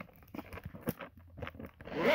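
A zipper on a Steam Deck 512GB carrying case is drawn open in a few close, scratchy pulls, with a louder rasp at the end.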